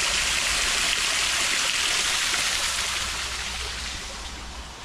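A river rushes through a drainage culvert beneath a former main road on an abandoned housing estate, making a loud, steady broadband roar that fades slightly toward the end, with no voices.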